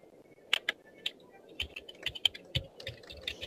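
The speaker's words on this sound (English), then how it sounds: "Sorry if you hear me typing." Typing on a computer keyboard during an online hangout: irregular bursts of crisp, close key clicks and clacks with uneven pauses between strokes, no talking.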